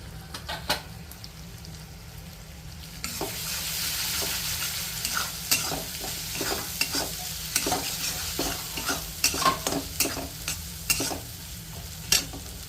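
Spices such as red chilli, coriander-cumin, turmeric and sesame seeds tempering in hot oil for dudhi handvo, a close, loud sizzle that flares up partway through, with stirring scrapes and sharp crackles and pops.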